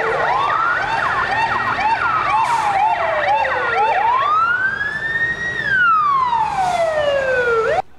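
An ambulance siren wails loud and close, sweeping up and down in long rising and falling tones with rapid yelping bursts, alone, ending abruptly.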